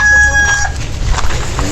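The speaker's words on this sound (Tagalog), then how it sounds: "May mini farm pa may mga manok." A rooster on a small farm crows loudly and close by, a single drawn-out call at the start followed by softer background clucking.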